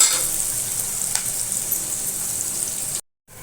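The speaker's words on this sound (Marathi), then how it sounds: "अर्धा कांदा आहे मोठा ते चांगलं भाजून घेऊ कांदा" Steady, close sizzling of onion frying in hot oil, a continuous crackling hiss that cuts out briefly near the end.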